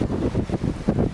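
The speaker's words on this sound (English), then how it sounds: "We're right now getting a little bit of the northwest wind" A northwest wind at sea buffets the microphone aboard a singlehanded sailboat bound for Hawaii, producing low, gusty rumbling pulses that rise and fall across the moment, with no voices.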